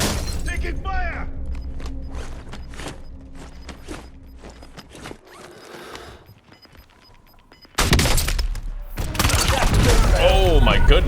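Gunfire in Warzone, bursts of shots and impacts with long crackling volleys toward the end, loud and close, while players talk over the action.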